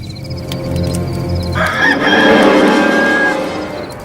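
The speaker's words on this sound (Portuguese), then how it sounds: "o galo cantou." A rooster crows loudly and close at hand, with a long rising call that swells midway and trails off, alone without any voices.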